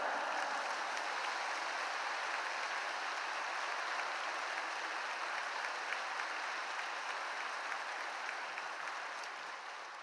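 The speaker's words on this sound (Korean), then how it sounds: "뜨거운 박수로 우리 목사님 맞이하시겠습니다" A church congregation applauds warmly to welcome the pastor at a Friday evening worship service, a steady, dense wash of clapping that holds evenly throughout and thins slightly at the very end.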